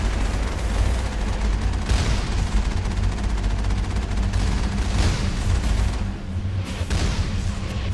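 Gunfire in the Mass Effect video game: dense, continuous bursts of rapid shots and blasts, loud and close throughout.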